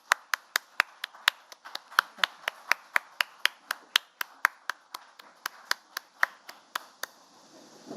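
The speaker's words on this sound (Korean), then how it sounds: "박수로 환영해 주시기 바랍니다." Evenly spaced claps ring out in a room as people welcome the National Assembly Speaker, a steady rhythmic beat of about three per second, crisp and fairly near, with no talk over it.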